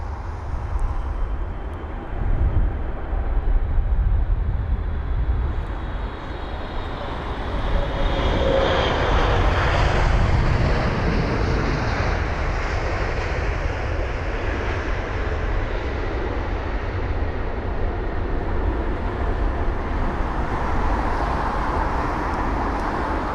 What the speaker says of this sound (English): The Boeing 777-300ER with a reg Sierra Uniform Golf Delta Mike is 13 years of age